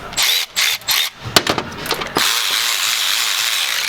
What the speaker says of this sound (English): Just the hit on the Milwaukee is just not as strong